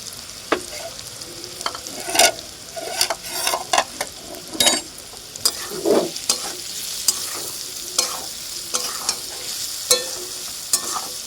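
Amla mixture is stirred in a pan with a spoon, giving repeated scraping knocks at an irregular rhythm over a soft, steady sizzle, close and fairly loud, with no voices.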